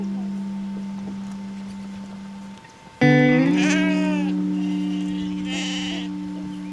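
Sheep on a solar grazing farm bleat loudly and close by, one long quavering call after a quieter stretch, then a second bleat follows, with steady faint hum underneath and no talking.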